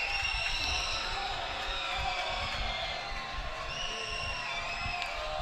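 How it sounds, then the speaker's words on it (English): Crowd at a minor-league baseball game between the Lexington Legends and Staten Island FerryHawks, cheering and roaring steadily to push up the noise meter, a continuous wash of voices with no pauses. "They got the noise meter back up, and this crowd loving it, raising the level."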